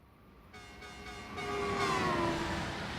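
A Class 390 Pendolino train in Train Simulator passes by with a sustained multi-tone horn-like whine that builds in loudness and bends downward in pitch as it goes past, without talk.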